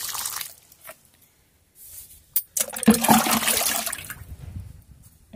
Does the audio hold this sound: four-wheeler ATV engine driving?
no